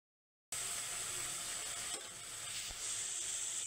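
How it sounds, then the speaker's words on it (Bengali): Spice masala frying in a pan for a drumstick and carrot curry, giving a steady, close, hissing sizzle with a slight dip midway and no talk. "মশলা কষানো হয়ে গেছে।"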